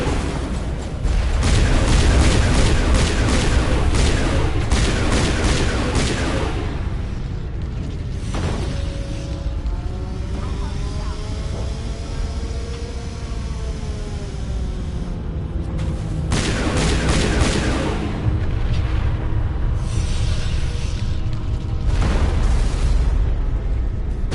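Loud bursts of rapid gunfire and booming blasts in Mass Effect Legendary Edition, coming in dense volleys separated by a quieter stretch with a rising electronic tone.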